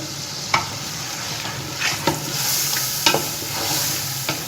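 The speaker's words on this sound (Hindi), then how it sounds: "हरे मसाले के साथ इसको मिक्स करके हम पकने के लिए रख देंगे 10 मिनट के लिए।" Chicken and potatoes cook in green masala for bhuna aloo chicken, giving a close, continuous sizzle with a handful of distinct spoon scrapes and knocks against the pan, no talking.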